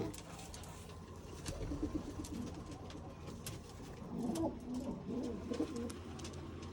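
Soft, low pigeon coos murmur repeatedly against a steady background hum, with faint rustling and scattered clicks throughout.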